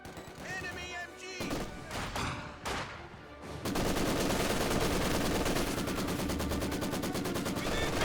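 MG42 machine gun fire in a Company of Heroes 2 battle, sustained loud bursts of rapid gunfire that swell into a dense continuous rattle, with earlier shots and battle noise mixed under speech.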